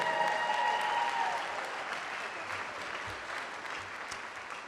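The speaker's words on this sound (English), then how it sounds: "Let's give a round of applause to our marshal this evening, Dr. Lois Gilmore from Language and Literature" An audience at a community college commencement applauds the evening's marshal, a sustained, broad patter of clapping that slowly fades slightly, with a brief tone trailing off near the start.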